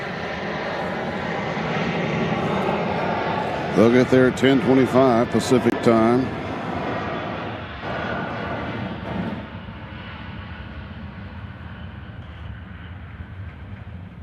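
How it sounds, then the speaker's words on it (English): A Southwest Airlines jet takes off from Nashville International Airport, a broad steady engine roar running throughout beneath someone talking, fading somewhat toward the end. "Next off, we got Southwest Flight 1808 headed to San Diego."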